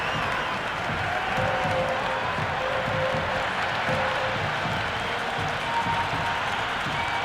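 Crowd at an India versus England Test cricket match applauding in the stands; a steady, even wash of distant clapping and crowd murmur holds across the whole stretch.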